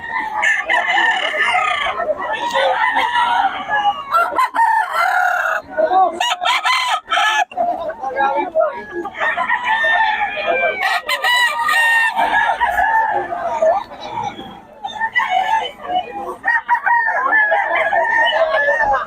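Henny gamecock roosters at the Bocaue market crow again and again, loud and close, their drawn-out calls overlapping with clucking and other fowl, while a voice talks briefly between the crows.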